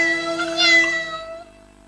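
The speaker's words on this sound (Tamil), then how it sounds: "என்னப்பா அது, இத்தனை பூனைங்களா?" Several cartoon cats meow in overlapping, drawn-out tonal cries, loud and close, swelling in the middle and fading out after about a second and a half.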